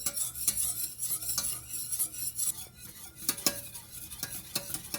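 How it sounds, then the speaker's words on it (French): A spoon gently stirring a cream and fruit dessert mixture in a pan on the heat, soft repeated scraping and clinks against the pot, close and steady with no talking. "Et on continue à mélanger tout doucement."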